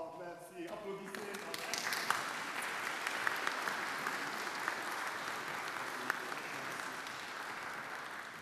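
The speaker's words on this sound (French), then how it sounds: "Applaudissez." A congregation at a French-language Sunday Mass breaks into sustained applause, broad and even clapping that swells after a brief opening sound and continues steadily, with a voice occasionally mixed in.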